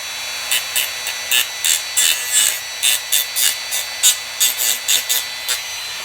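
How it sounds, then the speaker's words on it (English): A Dremel rotary tool running at about half power on a damaged 1/650 U.S.S. Constellation model, a steady faint hum under a loud, rhythmic series of rasping sanding strokes, roughly two per second, close and with no talk. "So the Dremel's at about half power."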